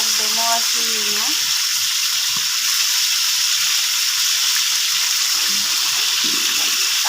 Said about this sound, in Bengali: ভালো করে কড়া করে ভাজবো